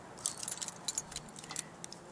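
A bunch of house and car keys with an attached multi-tool jangles close by in a series of light, bright metallic clinks and rattles over about two seconds, alone without talk.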